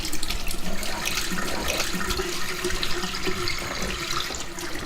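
Tap water runs steadily into a sink during face washing, a constant close splashing hiss with no talking.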